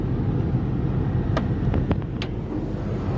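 Steady idle of a 2002 Cadillac Escalade's Vortec high-output 6.0 engine, heard up close under the open hood: a continuous low rumble with a few faint ticks over it.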